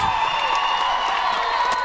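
A steady wash of crowd noise at a girls' regional semifinal basketball game in a gym, with faint cheers and whoops under a sustained hum.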